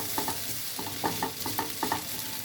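A vegetable fry of bottle gourd peel, potato, carrot and flat beans with small shrimp, stirred in a pan, giving a steady soft sizzle and rhythmic scraping strokes, close and fairly quiet, with no voices.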